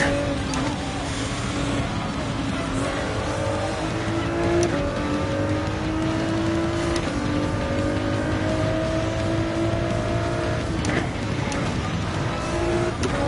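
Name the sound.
Nissan GTR race car engine in video game Gran Turismo 7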